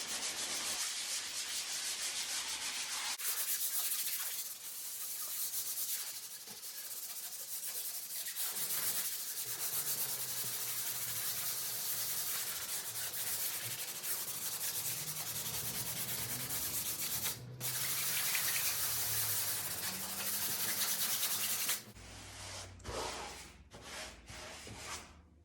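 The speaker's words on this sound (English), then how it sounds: "So I've got 400 grit sandpaper here, and I'm just going to give it a light sand" A painted chair is hand sanded with 400 grit sandpaper in long, steady rubbing strokes, a continuous close scratchy hiss with short pauses as the paper is repositioned and no voice over it.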